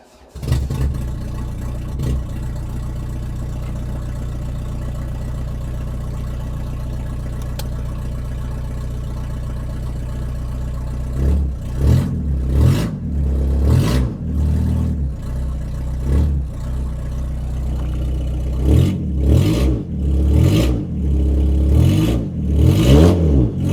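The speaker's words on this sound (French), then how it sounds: "On va démarrer, on va voir le bruit que ça fait en échappement libre." A homemade open stainless-steel exhaust on a motorcycle is fired up: a steady idle drones for several seconds, then loud, close blips of revving rise and fall in bursts, growing louder toward the end.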